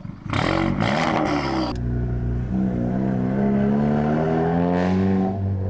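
A catless Volkswagen GTI exhaust drones and revs from inside the car, with a sharp burst of crackling pops early on, then a steady rising engine tone as it accelerates.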